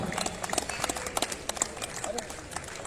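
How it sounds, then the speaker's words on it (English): A crowd at a prize distribution for a Goa under-14 girls football league claps for the tournament organiser, producing a fairly soft, uneven patter of individual claps. "He should be getting loud applause."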